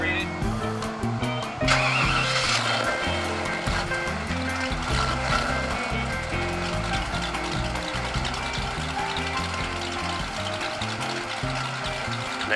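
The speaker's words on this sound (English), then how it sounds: "Nice sounding car." A 1956 Chevrolet Nomad engine idles and runs steadily up close, a continuous low rumble with a brief rise in level near the start.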